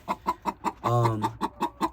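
Chickens cluck close by in a quick, steady series of short clucks, with one longer drawn-out squawk in the middle.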